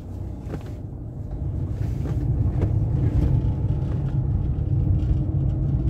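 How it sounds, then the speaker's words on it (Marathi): A car's engine turns over and settles into a steady, close low rumble that swells slightly as the vehicle pulls away and drives on, with no voices. "आपण गाडी सुरू करूयात।"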